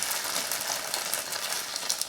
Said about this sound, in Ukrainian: Все викладаю це все на пательню. І починаю їх по черзі смажити.